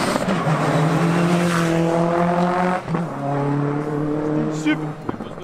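A rally car tears along a stage road at Saint Marcellin, its engine screaming close and loud before a quick gear change and continued hard acceleration, with voices nearby.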